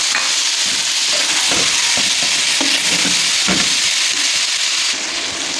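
Chicken and vegetables, including potatoes, fry steadily in a pan with a continuous loud sizzle and hiss, a few stirring scrapes and knocks breaking through, close up and with no talking.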